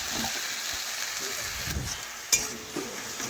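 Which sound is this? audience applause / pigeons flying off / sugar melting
sugar melting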